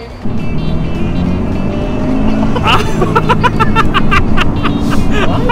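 A Toyota 86 fitted with an HKS turbo kit on a stock engine accelerates hard, its loud engine note rising steadily with sharp bursts toward the end as a voice exclaims briefly.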